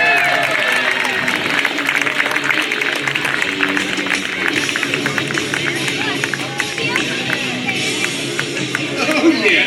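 Air show crowd at NAS Oceana applauds a US Navy Leap Frogs parachutist landing, with sustained loud clapping, cheering and crowd babble throughout.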